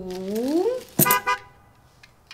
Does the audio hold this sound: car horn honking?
yes